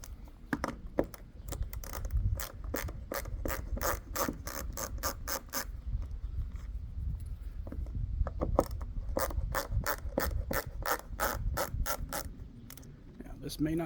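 Trailer screws are backed out with a square drive bit, giving two long runs of rapid ratcheting clicks close by, separated by a short pause, over faint background noise.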